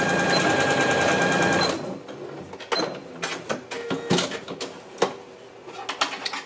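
A sewing machine stitches a hem on a pair of shorts, running steadily for nearly two seconds before stopping, followed by sharp clicks, thumps and handling noises close by.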